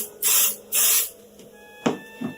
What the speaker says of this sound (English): you're just going to do a very light spray over the surface of the quilt